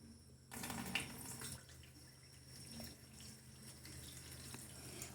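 Water from a tap filling the reservoir of a Petit 710 machine, a soft steady running and splashing that is faint and continuous throughout.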